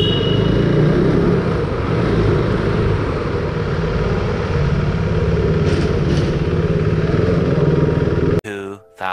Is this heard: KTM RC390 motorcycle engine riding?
yes